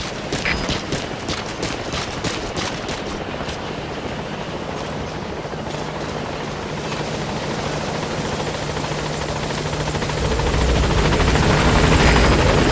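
Helicopter rotor noise from the Pequod arriving at a landing zone in the video game Metal Gear Solid V: The Phantom Pain, a steady loud drone that swells and grows closer toward the end, with no talk.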